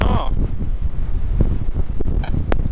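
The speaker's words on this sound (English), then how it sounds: "It's so windy up here." Strong wind roaring across the open upper deck of a ferry sailing from England to Spain, a loud, continuous buffeting rush with brief bits of voice and a couple of short sharp noises.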